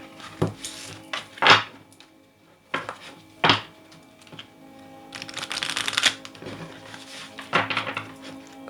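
Playing cards being reshuffled during a tarot-style reading, giving repeated crisp riffling bursts with brief pauses between them, close and fairly loud with no voice over them.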